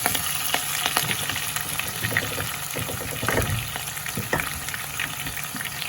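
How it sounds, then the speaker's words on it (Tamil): Onions, green chilli and garlic hit hot oil with fennel, fenugreek and curry leaves for a drumstick and jackfruit seed kuzhambu. The result is a dense, loud, continuous frying sizzle with close stirring noises and no voices. "வெங்காயத்தையும் போட்டுட்டு பச்சை மிளகாய் பூண்டு எல்லாத்தையும் போட்டுருவோம்"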